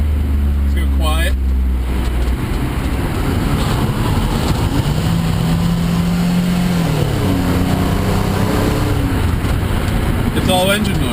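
Car engine fitted with a Varex muffler running in its quiet mode, a loud continuous low exhaust drone rising and falling in pitch with throttle, with a brief whoosh near the start and again near the end.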